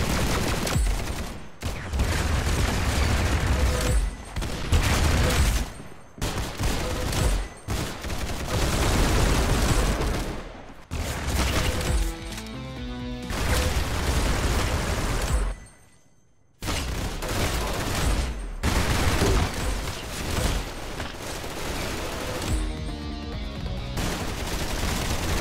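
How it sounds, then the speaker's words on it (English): Rapid gunfire in the Roblox shooter Arsenal, loud sustained bursts of automatic shots nearly nonstop, with one brief pause, and almost no talk. "Very good shooting."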